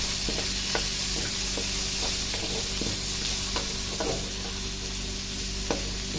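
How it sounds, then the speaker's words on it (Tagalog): Garlic and onion, added after ginger, fry in a small amount of oil in a pan, giving a loud, steady sizzle broken by scraping, knocking stirring strokes, with no talk. "ilagay na natin ngayon ang ating garlic. Pwede na rin natin ilagay ang ating onion."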